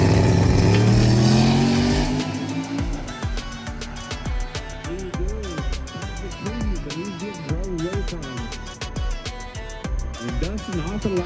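A drag race vehicle roars loudly off the line, then its engine races and warbles through rapid, repeated pitch sweeps, with a sharp rhythmic chatter running beneath.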